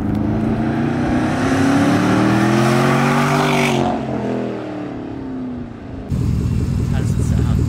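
A straight-piped Porsche Cayenne Turbo exhaust revs loud and close, rising and falling in deep throaty sweeps, drops briefly, then booms back up to a heavy roar.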